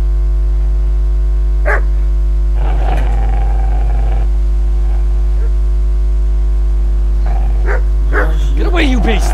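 A dog barks in the video game Kingdom Come: Deliverance, giving a few sharp barks over a steady mains hum while a voice speaks loudly over them.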